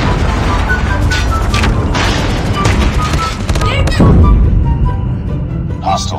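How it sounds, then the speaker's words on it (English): A predator missile strike in Call of Duty Mobile lands as a loud, deep boom in the middle of dense, continuous gunfire and battle noise, with a game announcer's voice heard over the mix. "Friendly predator missile inbound."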